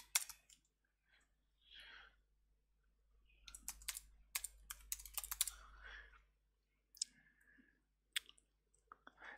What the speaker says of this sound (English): let's go back to our Word document and type that in